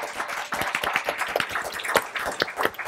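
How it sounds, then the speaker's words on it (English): An audience at a talk on climate adaptation and social justice gives a round of applause, a brisk, irregular clatter of many hands that stays fairly close and steady with almost no talking. "if we give a round of applause for Gina for being a hero for the environment, that would be terrific"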